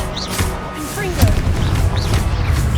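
Confringo fire-blast spells burst in Hogwarts Legacy combat, booming impacts over a rumbling low bed, one strong blast near the middle among smaller whooshing casts, with voices speaking through the fight.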